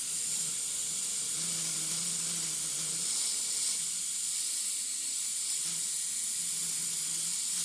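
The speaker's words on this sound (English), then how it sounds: "So real lightly, I'm going to just mist in, test the color." Paint misted very lightly from a sprayer onto a Claybord panel, a steady soft hiss running continuously and evenly throughout, fairly quiet with no talking.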